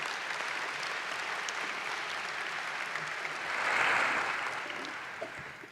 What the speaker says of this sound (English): Let's give them a round of applause wherever they are.